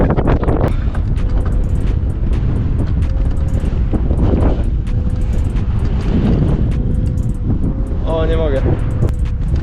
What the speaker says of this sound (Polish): nie wiem, czy będzie mi słychać, bo jest naprawdę duży wiatr